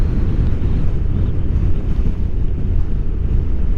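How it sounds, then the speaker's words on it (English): Wind buffets a microphone outdoors on a bright afternoon, a loud, dense, continuous low roar with slight gusty swells throughout and no talking. "As I say, except for that wind."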